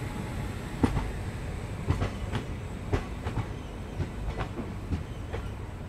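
Nautanwa Durg Express passenger train rolling on a big curve into Gorakhpur station, with steady rumbling wheel noise and regular clickety-clack rail-joint beats spaced about a second apart, close and continuous.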